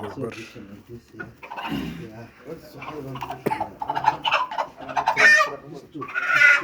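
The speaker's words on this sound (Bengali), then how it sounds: "এটা তো দেশি মুরগি মনে হয় না" Deshi hens and roosters, some over two kilos, cluck and squawk loudly at close range, the calls rising toward the end while people talk over them.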